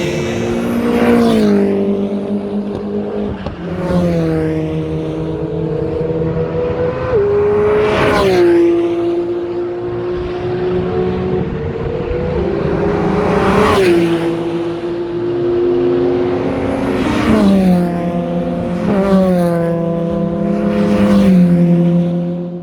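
A race car on a track revs hard through repeated gear shifts, each loud rising engine whine climbing then dropping at the change, close and continuous with several acceleration runs in a row.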